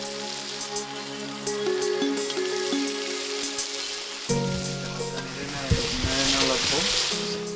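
Spiced meat sizzles and fries steadily in a pan with ground coriander and salt, with a spoon stirring and scraping through it in short bursts; the frying hiss stays loud and close throughout.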